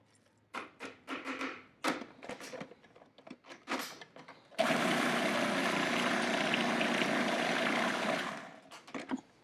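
Blender pureeing fresh blackberries, a loud continuous whirring roar lasting about four seconds after a series of scattered knocks and clatters, then cutting off.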